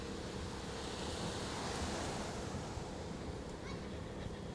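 Waves wash in at low tide on Coco Beach in Costa Rica, a steady broadband rush of surf mixed with wind noise on the microphone, continuous and fairly calm with no breaks.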